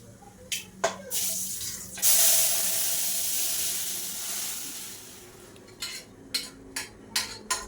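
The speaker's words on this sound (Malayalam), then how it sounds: "ഈ കടുകൊന്ന് പൊട്ടിക്കഴിഞ്ഞാൽ നമുക്കിത് ഈ കടലക്കറി ഒന്ന് വറുത്തിട്ടെടുക്കാനുണ്ട്" Mustard seeds pop in hot oil for tempering a Kerala-style chickpea curry: scattered sharp, close pops, then a loud sustained sizzling hiss that slowly fades, and another run of crisp crackles at the end.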